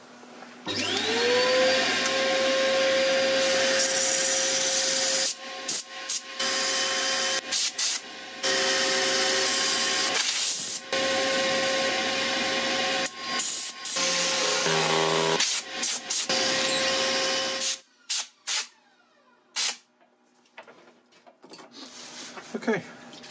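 Loud, continuous whirring from a dust extractor or power sander runs while an ash wood bowl is sanded on a lathe, broken by brief stops and ending in near-silence with light handling noises.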